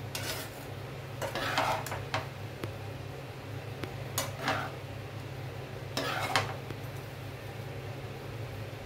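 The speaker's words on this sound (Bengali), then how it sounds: "ঘিটা আমি মিশিয়ে দিচ্ছি সব এর সঙ্গে।" A spoon stirs ghee through rice in a metal pan, giving soft scraping strokes with a few sharper clinks against the pan over a low steady hum, quiet throughout with no talking.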